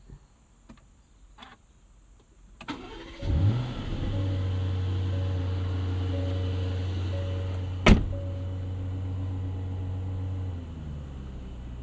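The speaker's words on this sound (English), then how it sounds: "let's go ahead and fire this thing up and listen to this 4-liter V8 come to life" An Aston Martin DB12's 4-liter twin-turbo V8 starts up after a few soft clicks and a brief starter whir, firing into a loud flare before settling into a steady, close idle, with a sharp thump partway through.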